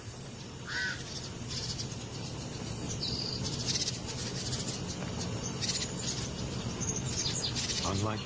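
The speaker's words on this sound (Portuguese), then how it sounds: "Corvos o rodeiam." Crows caw repeatedly in the distance over a constant outdoor background of insects and birdsong in Namibia, with occasional nearer chirps.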